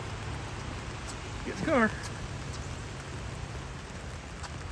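Steady rain hisses evenly outdoors during a dog walk, alone except for a short vocal chirp and a brief spoken line near the middle.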